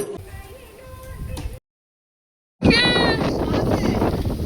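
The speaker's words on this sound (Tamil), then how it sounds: "எங்க காத்து பிச்சிட்டு அடிக்குது." Strong wind at the hilltop Thirumalai temple in Tenkasi buffets the microphone with a low, rough roar. It cuts out completely for about a second and then returns louder, with faint voices under it.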